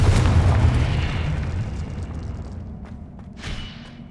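A Confringo fire-blast spell in Hogwarts Legacy on PS5 detonates with a loud booming burst that decays slowly into a rumbling tail, followed by a smaller secondary pop near the end.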